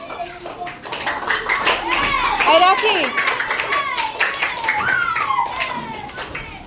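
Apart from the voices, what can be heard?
children clapping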